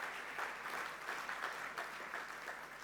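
A church congregation applauds together, a steady wash of many hands clapping at a distance, moderately faint and continuous.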